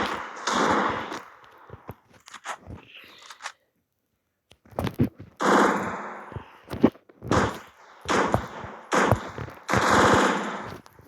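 Pistol gunfire in a video game rings out in sharp bursts of rapid shots, loud and close, with short gaps and one brief silence between volleys.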